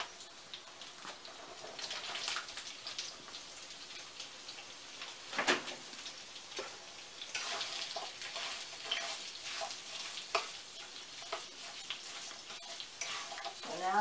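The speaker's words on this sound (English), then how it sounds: "I just want to heat up my sausage." Sausage and rehydrated potatoes sizzle gently in a pan over lowered heat, a soft continuous crackle with occasional sharper pops and light scraping clicks, no talking.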